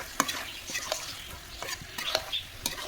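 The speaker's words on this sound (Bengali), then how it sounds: "ঠিক ওইভাবেই চিকেনটা কষা করা হচ্ছে" Chicken sautéing in a pan with mint and curry leaves, a soft continuous sizzle broken by scraping stirs of a spatula, fairly quiet and close with no talk.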